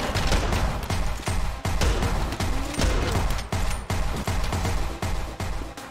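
Rapid, repeated shotgun blasts in the game Anger Foot crack out one after another with barely a pause, loud and close, like a constant exchange of shots.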